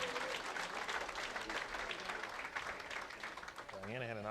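Bowling fans at a PWBA Sonoma County Open stepladder final applaud before the title match, a brief, moderately faint burst of clapping that gives way to an announcer's voice at the end.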